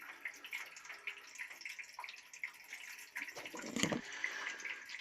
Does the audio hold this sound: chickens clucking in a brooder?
no